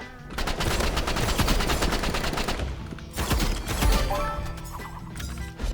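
Rapid automatic gunfire from the Roblox game Rivals crackles in dense bursts, loud and close, with a short pause around the middle before another volley.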